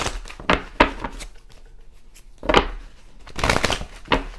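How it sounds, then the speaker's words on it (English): Tarot cards being shuffled by hand during a reading, a few soft papery riffling bursts separated by short pauses, close and fairly quiet with no talking. "A few more shuffles."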